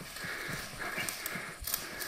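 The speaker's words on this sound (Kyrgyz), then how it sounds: "Ушул ат экен биринчи атыбыз" A horse moves along with soft, irregular hoof clip-clops over a quiet outdoor background, moderately near and fairly faint, with no talking.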